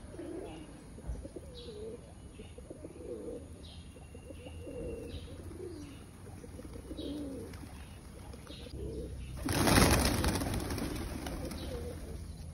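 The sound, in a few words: birds cooing, pigeon or dove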